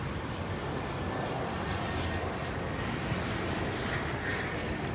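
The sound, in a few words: airplane flying overhead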